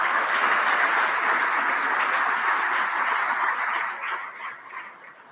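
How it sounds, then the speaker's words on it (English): Audience applause at a hockey awards event for the staff of the Sun Peaks Grand hotel: dense, sustained clapping from a large crowd that holds steady and then thins out toward the end. "Give them all a nice round of applause."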